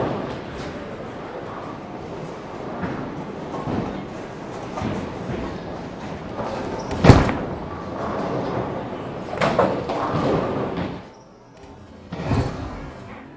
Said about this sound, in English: that was two back-to-back attempts at shooting at the 10 pin without my spare ball